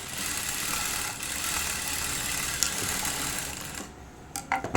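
A sewing machine runs steadily, double-stitching the lining of a back boat-neck, front deep-neck blouse. The whirring stitching stays fairly loud and continuous, then briefly stops with a few clicks near the end.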